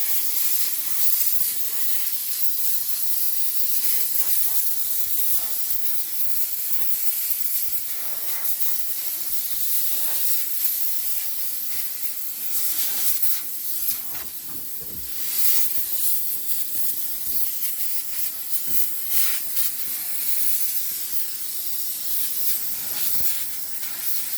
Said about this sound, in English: I use my air compressor nozzle and spray everything off.